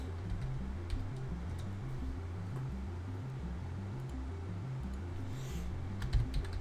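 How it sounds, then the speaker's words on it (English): Typing on a computer keyboard while setting up Jackbox games, with steady soft key clicks running throughout over a continuous low background hum. "So I'm going to type in some Jackbox games."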